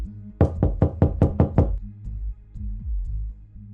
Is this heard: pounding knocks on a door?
yes